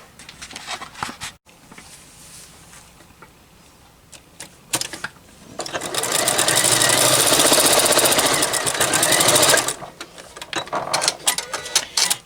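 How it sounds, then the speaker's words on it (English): A sewing machine stitches a fabric bowl cozy with short rattling bursts, then a loud sustained run of rapid stitching for several seconds before stopping. "it is a good idea to backstitch at the beginning and the end of your cozy so that it doesn't come apart"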